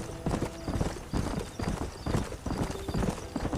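Horse hooves clip-clop in a steady trotting rhythm in the video game Red Dead Redemption, close and fairly loud, with a brief whinny and no talk over it.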